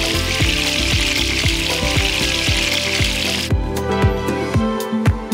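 Balls of minced pork sizzle and spit as they brown in a hot pan, with a steady hiss broken by regular crackling pops.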